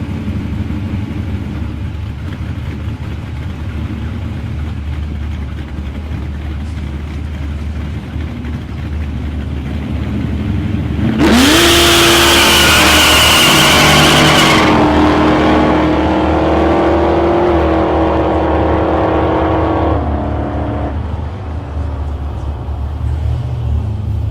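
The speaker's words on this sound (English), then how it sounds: "Travis Kirby in his XA Falcon 393 powered car versus Damien Kemp in lane 2 in his fair lane with a 408 cubic inch Cleveland" Drag racing cars, an XA Falcon with a 393 engine and a Fairlane with a 408 cubic inch Cleveland, rumble at idle before a loud, roaring launch pass that fades into a steady distant drone.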